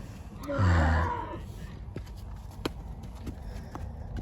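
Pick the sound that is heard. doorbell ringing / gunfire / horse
horse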